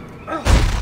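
A single gunshot fired in the sci-fi horror video game Dead Space 3, a sudden loud thud-like blast that cuts in sharply after a quiet moment and lingers briefly.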